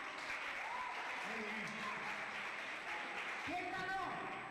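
Neighbourhood audience at a clown show in Tamaraceite applauding the children, a faint, steady patter of clapping beneath children's voices and shouting.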